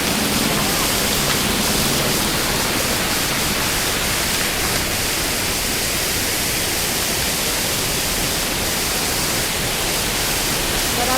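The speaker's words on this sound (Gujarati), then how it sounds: "બરાબર પાણી આવી રહ્યું છે." Water rushes along the trekking path to Kedarnath in a loud, unbroken roar that fills the whole stretch without pause, close by and dense like a torrent.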